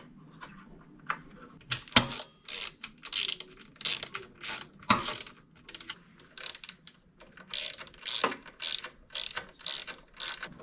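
A hand ratchet clicks in repeated bursts while loosening a bolt on a Talaria Sting electric motorbike motor. The strokes come close and rhythmic, each a quick run of pawl clicks with short pauses between, and there is no speech.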